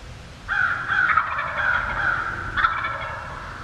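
Wild turkey gobbling during a spring hunt in Illinois, two loud, close rattling gobbles in quick succession, the first long and the second shorter, with no talk over them.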